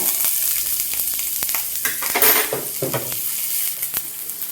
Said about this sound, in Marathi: छान असा खरपूस भाजून घेऊया ग्रेव्हीसाठीचा कांदा